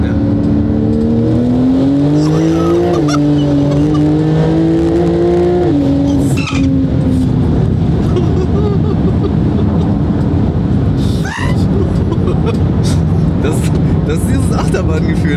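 A 1300 hp Porsche 911 Turbo S accelerates hard on a dry test run with manual shifting, its engine loud and close, climbing in pitch through several gear changes with brief tire noise later.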